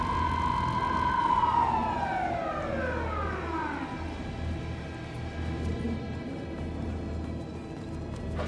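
A police car siren wails loudly, its pitch sweeping down and rising again in a long falling glide, with a steady engine rumble underneath and no voices.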